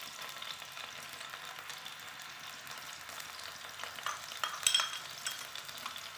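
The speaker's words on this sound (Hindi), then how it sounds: "और इसको लाइट ब्राउन करेंगे प्याज को ऑयल में।" Onions fry in oil toward light brown, a faint, continuous crackling sizzle with soft stirring scrapes that swell briefly near the end.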